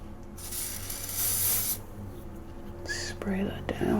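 A hiss of hairspray bursts close by, followed by softer rubbing and brief rustles, with faint voice-like tones near the end.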